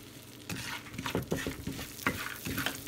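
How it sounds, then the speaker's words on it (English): Sausage browning in a pan for gravy, soft sizzling under busy scraping and clattering as a utensil stirs and turns the meat, close and moderately quiet, with no talking. "So we're gonna brown this up."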